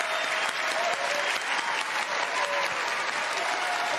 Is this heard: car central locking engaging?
no